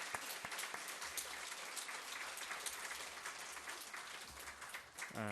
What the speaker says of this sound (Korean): 한번 박수로 우리 환영하고